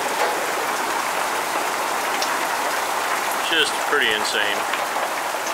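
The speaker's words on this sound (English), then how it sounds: "we have a downpour at the base of the Rocky Mountains in Colorado" Heavy rain pouring steadily at the base of the Rocky Mountains in Colorado, a dense constant hiss close by, with someone briefly talking over it.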